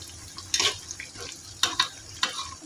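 Cashew nuts frying in a pan for chicken biryani, a soft hiss under several sharp scraping stirs of a spoon against the pan, close up and with no voices.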